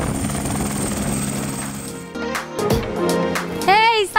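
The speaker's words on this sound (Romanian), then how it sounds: "Reamintesc momentul în care am aterizat cu elicopterul chiar aici," A helicopter landing in the yard of a house throbs with a loud, steady rotor and engine roar for about two seconds. Voices then break in close by over the fading noise.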